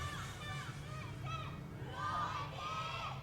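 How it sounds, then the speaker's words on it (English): A live esports crowd cheers and shouts during an Overwatch Apex Season 2 match between Afreeca Freecs Blue and LW Blue, a steady distant roar of many voices with scattered higher yells. "Some cheers going out."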